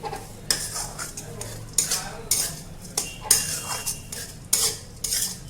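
A spoon stirs crushed peanuts into green chilies fried in oil for peanut chutney, giving repeated scraping and clinking strokes against the pan in uneven bursts, close and moderately loud with no talk.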